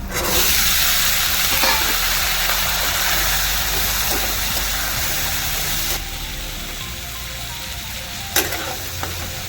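Turmeric and peas hit a hot frying pan for cabbage bhaji and get stirred, giving a loud steady sizzle with scraping stir sounds and a few sharp clinks near the end.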